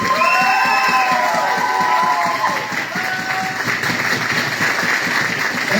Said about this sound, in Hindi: मैं चाहूंगा एक जोरदार तालियां हो जाए।